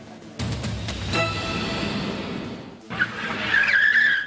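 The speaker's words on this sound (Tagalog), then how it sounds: "Viral ngayon sa social media ang isang kotse na nag-exhibition sa Maa Davao City kung saan makailang beses itong nag-drift sa National Road" A car drifting repeatedly on a national road in Davao City, tires skidding and squealing loudly over a revving engine, with a long smeared screech at the end.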